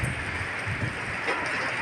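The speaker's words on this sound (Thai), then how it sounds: "มื้อนี้พายุลม" Strong storm wind blowing through Vientiane, Laos, a steady loud broadband roar with gusty rumbling buffets against the microphone and no speech.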